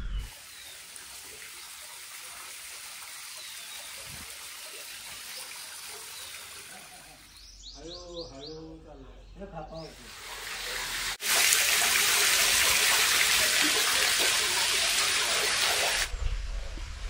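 Water rushing steadily through a stone channel at a centuries-old temple stepwell, a constant close wash of flow that surges louder midway, with brief clattering and birdlike sounds in the pause between.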